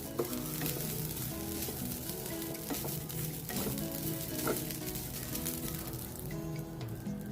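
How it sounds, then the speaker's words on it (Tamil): Sweet coconut filling for poorana kozhukattai roasting in a pan over a low flame, a continuous dry sizzle with repeated scraping stirs of a spoon, close and steady without speech. "அதை நல்லா வறுத்துக்கணும் ஈரப்பதம் போக"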